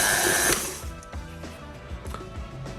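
A stand mixer kneads sourdough dough for Detroit-style pizza, opening with a short loud whirring burst and then settling into a steady motor hum with soft, rhythmic thumps as the dough slaps around the bowl.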